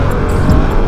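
A dirt bike engine revs hard during a short burnout, a loud, close, continuous buzzing roar with slight surges in pitch.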